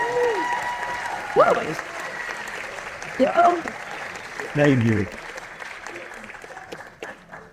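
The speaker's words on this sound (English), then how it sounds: "You get a applause." Audience applause at a film premiere Q&A, a steady wash of clapping running under a voice, which rises in a few brief spoken bursts before the clapping thins.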